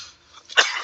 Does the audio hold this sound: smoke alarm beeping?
no